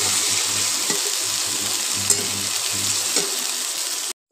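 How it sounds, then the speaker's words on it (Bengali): A steady sizzle of eggplant frying in leftover oil in a pan, with a few light stirring knocks, continues evenly and then cuts off abruptly near the end. "আর এই যে তেলটা পড়ে আছে এটা দিয়ে একটা বেগুন ভেজে দেবো"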